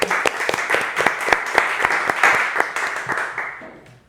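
Clapping from a small group welcoming a guest onto a show, with distinct sharp claps over a soft bed of applause that tapers off and fades out near the end.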